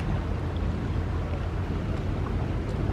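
Gondola gliding along a Venice canal, carrying a steady broadband wash of water and wind noise with low rumble, continuous and fairly loud throughout, no speech.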